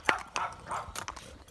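A dog barks several times outdoors near a fence, short sharp barks and yips spaced irregularly at moderate distance, fairly faint, with no talk over them.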